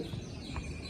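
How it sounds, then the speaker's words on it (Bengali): A recorded bird call plays inside a park visitor centre with taxidermy displays. A short chirp sounds faintly over a hollow indoor murmur. "মধ্যেখানে এইরকম পাখি ডাকছে"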